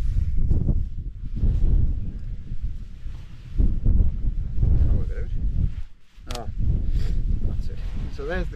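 Gusty wind buffets the microphone at a wild campsite in the Cheviot crags, low rumbling surges that swell and drop, mixed with a person talking.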